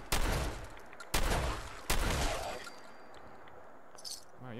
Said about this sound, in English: time to test out my new two-shot shotgun